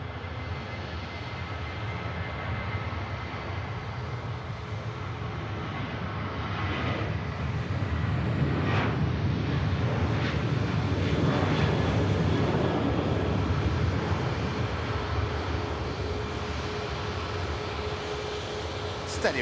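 A Swiss airliner taking off at Manchester Airport, a steady, distant jet engine roar that swells gradually and stays sustained as the aircraft rotates.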